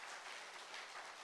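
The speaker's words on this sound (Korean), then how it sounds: "박수 치고 싶은 사람 치세요." A church congregation applauding during a Sunday sermon, a soft, steady wash of clapping from a crowd, fairly distant and unbroken, with no talk over it.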